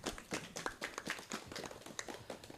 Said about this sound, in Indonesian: tepuk tangan yang meriah untuk narasumber bertiga